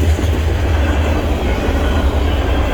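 Loaded freight train cars roll past close by, a steady heavy rumble with a faint rhythmic clatter of wheels on rail joints, loud and continuous with no talking.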